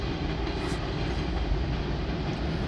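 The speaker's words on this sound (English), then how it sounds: "Today, some interesting rolling stock is a Chicago Northwestern boxcar and a BNSF grain hopper in the mix." Freight train with a Chicago Northwestern boxcar and a BNSF grain hopper rolling past nearby, giving a steady, loud, continuous rumble and wheel roar with no break.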